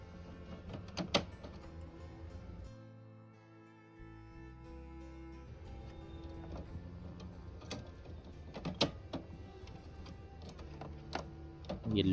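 Print heads are pressed back into an HP Smart Tank 580 printer, giving scattered sharp plastic clicks and snaps, with a brief low mechanical hum partway through, close and without speech.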